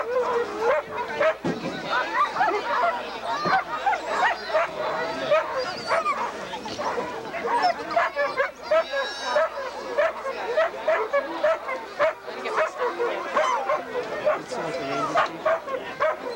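Sled dogs at a 1995 race in Fort Kent bark, yip and whimper in an excited chorus close by, running almost continuously while people talk throughout.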